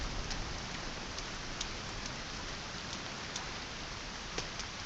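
Steady rain by the ocean in the survival game Sons of the Forest, a dense, even hiss of falling drops with a few brighter spatters, constant and unbroken with no voices.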